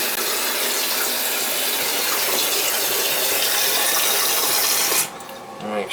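Water gushes steadily from a newly replaced outside faucet, a loud broadband rush that holds constant for about five seconds before cutting off to quiet.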